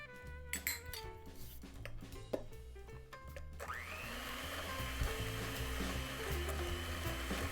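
Clinks of brown sugar and utensils against a bowl, then an electric mixer whirring steadily as it creams butter and brown sugar for ginger cookie batter, a continuous motor hum with small pitch shifts, no talking.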